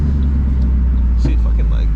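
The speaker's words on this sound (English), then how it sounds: "That might be what's causing this little idle surge I've been having" 2007 Ford Mustang GT idling with a slight surge, a loud steady low engine rumble heard close up from inside the car, with a brief swell partway through.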